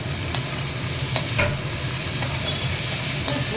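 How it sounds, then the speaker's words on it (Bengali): Finely chopped ginger and garlic dry-frying in a hot pan with no water, a steady close sizzle with occasional stirring clicks and scrapes. "আদা রসুন একদম কুচিয়ে ঝিরিঝিরি করেছি, একদম ঝিরিঝিরি করেছি, ওটা দিতে হবে।"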